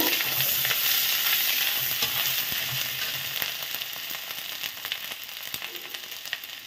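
Ginger and tomato paste fry in a pan with a dense, steady sizzle and frequent sharp crackles, close and fairly loud, easing slightly over the stretch with no one talking.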